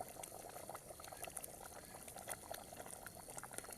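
Village-style crab curry, made with crabs dug from mud, simmers in a pot on a wood-fired clay stove, giving a faint, steady bubbling with no voices.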